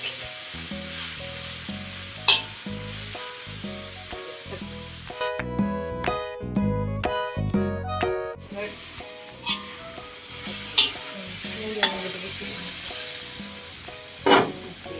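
Curry leaves frying and being stirred in a hot pan, a steady close sizzle with the scrape of a spoon, a short burst of music in the middle, and occasional sharper crackles.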